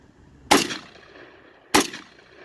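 Two sharp gunshots ring out from a Palmetto State Armory Chinese SKS rifle, a little over a second apart, each crack loud and followed by a short echoing decay outdoors.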